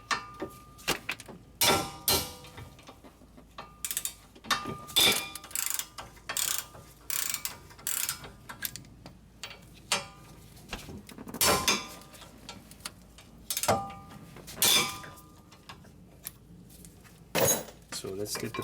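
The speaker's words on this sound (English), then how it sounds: "now we're gonna remove these 2 bolts that hold the caliper bracket on the steering knuckle" Mechanic removing the 15mm caliper bracket bolts from the steering knuckle on a Ford Freestyle: repeated close metallic clinks and ratcheting clicks in irregular bursts with brief pauses, tools clattering against metal, no talk.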